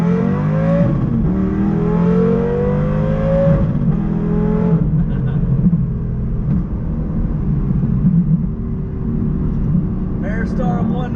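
A Lamborghini Gallardo with a paddle-shift e-gear transmission pulls away, its engine revving up through rising pitch, shifting, then holding a loud steady drone from inside the cabin while someone talks over it.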